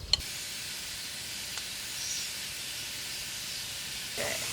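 Minced meat browning in a pan makes a steady, moderate hissing sizzle that runs evenly throughout, with a faint clink near the start and no talking.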